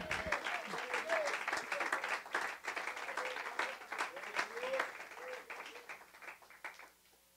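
A church congregation applauds in praise during a sermon, steady dense clapping filling the room for several seconds, with a few raised voices and cheers rising over it before it thins out toward the end.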